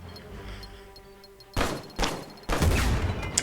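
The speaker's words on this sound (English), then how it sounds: "Oh, and the explosion there," Grenade explosions in Uncharted 4, with pineapple fruit flying everywhere: three heavy booming blasts in quick succession, the last one loudest and followed by a rumbling, debris-filled tail. A quieter game ambience plays before the blasts.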